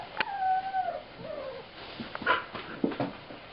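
Five-week-old Australian Shepherd puppies whimper and whine in thin, rising cries, with several short yips and whines overlapping close by.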